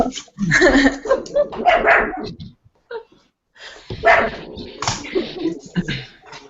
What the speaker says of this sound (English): I heard the barking.